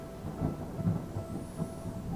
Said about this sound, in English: Thunder rumbled.